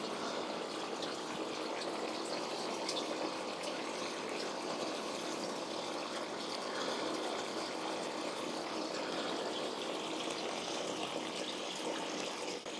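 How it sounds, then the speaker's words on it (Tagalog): Water runs steadily from a hose at ground level inside an abandoned ritual hall, a continuous broadband rush that stays even and fairly close for the whole stretch, with no voices over it. "naririnig ko ang daloy ng tubig dito"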